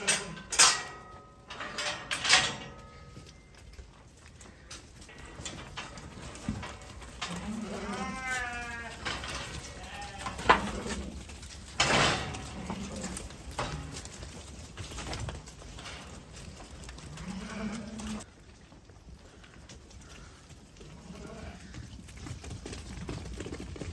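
Sheep and lambs bleating across a farm flock of ewes, calls rising and overlapping at varying distances, some near and loud, others faint in the background, with a steady outdoor rumble underneath.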